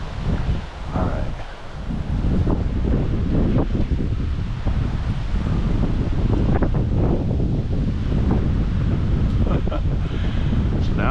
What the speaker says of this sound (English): of course the wind is picking up